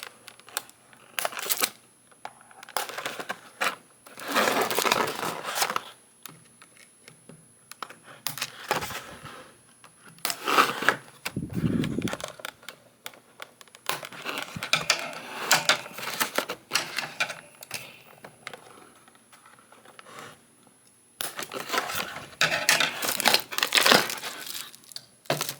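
A Transformers Scrapper figure is cut loose from its packaging, with scattered snips, crinkling plastic and clicking handling noises up close, irregular and moderately loud between quiet gaps.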